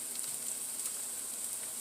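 Minced garlic sizzling in a hot pan with a little salt, a soft steady hiss and crackle, faint and continuous for a moment.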